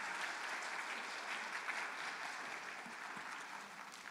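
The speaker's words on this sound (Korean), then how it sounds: "소중한 강의해 주신 교수님께 다시 한번 박수로 감사 전하겠습니다" Steady audience clapping fills a hall at a Korean Salvation Army mission conference after a professor's lecture, a dense, even wash of hands that holds for about four seconds and thins slightly toward the end.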